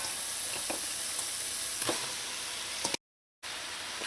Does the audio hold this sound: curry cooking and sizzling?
yes